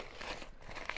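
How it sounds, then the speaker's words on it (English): Tear-away embroidery backing is ripped off a beach tote bag, producing close, brief crinkling and tearing rustles over about a second. "tear away backing can simply just be torn away"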